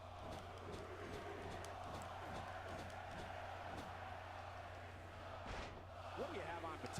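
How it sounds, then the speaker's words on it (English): Tokyo crowd in a WWE SmackDown video game roars steadily throughout, a dense sustained wash of arena cheering with a brief swell near the end, while commentators talk over it. "just listen to this Tokyo crowd"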